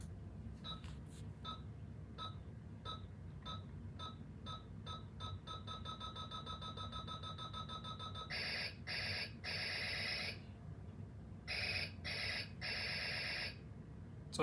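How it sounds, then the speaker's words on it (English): A Buzz Lightyear toy's laser fires a rapid series of electronic beeps, first as quick repeating chirps, then as longer pulsing bursts that stop and start, played close and fairly quiet. "So his laser has 2 different sounds."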